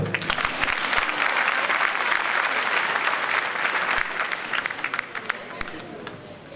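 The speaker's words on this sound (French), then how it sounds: "Applaudissez-le." A theatre audience at an excellence and retirees' celebration bursts into loud, dense applause that runs unbroken for several seconds before thinning out, with scattered sharper claps standing out near the end.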